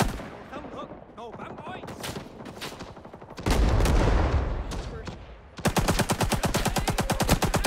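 RP-46 machine gun firing in Rising Storm 2 on a Saigon map, long bursts of rapid close shots, then a steady sustained burst, heavy and loud amid other battlefield gunfire.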